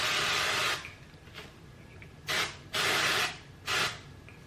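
Steady hissing bursts of an aerosol hair color spray, one long spray followed by a few shorter ones, close and clear with no talking.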